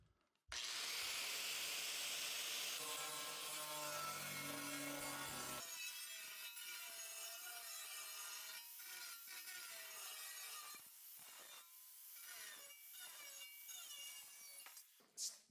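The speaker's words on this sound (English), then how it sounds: "Now we're gonna run the grinder and try to just score this straight across the top" Close, loud grinder scoring a straight cut across the top of a fabricated chassis for a dual EPYC 7551 mining rig, a harsh continuous grinding that shifts pitch partway through and keeps going with rough scraping.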